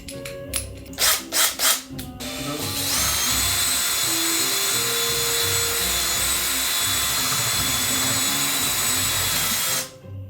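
A few short bursts of a cordless drill, then a long steady whine as it drills continuously for several seconds before stopping abruptly, close by.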